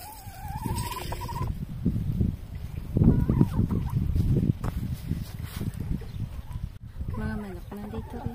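Poultry in a home garden gobble and cluck in repeated bursts, fairly close, mixed with rustling and footsteps while people talk nearby.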